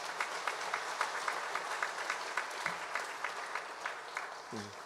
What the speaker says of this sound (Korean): 우리 박수로 환영하기만 합니다